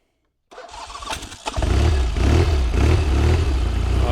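A Norton Commando motorcycle engine cranks over with a few clattering turns, then catches and settles into a loud, throbbing idle close by.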